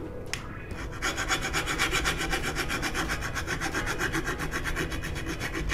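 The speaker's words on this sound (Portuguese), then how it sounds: "Então nós vamos pegar a lima e passar em toda a porca também" A hand file rasps back and forth across a metal nut in a workshop while a home-built CNC machine is being assembled, giving a steady, rhythmic scraping of quick even strokes that runs close and fairly loud for several seconds with no talking.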